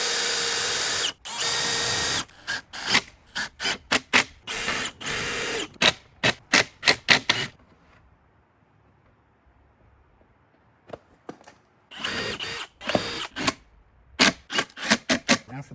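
Power drill driving screws into wooden runners for a sleeping platform in a Toyota 4Runner, loud repeated whirring bursts of varying length, a quiet pause in the middle, then more rapid short bursts.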